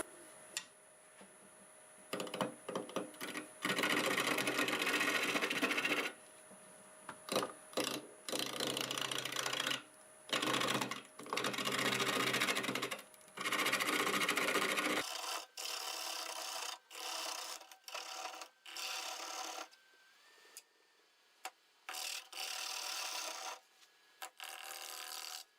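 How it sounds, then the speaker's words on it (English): Wood lathe at about 950 RPM turning a guava bowl with a half-inch bowl gouge, giving bursts of scraping, rasping cuts with short pauses, then a quieter, thinner whine of the spinning lathe in the later part. "Doing about 950 RPM, half-inch bowl gouge."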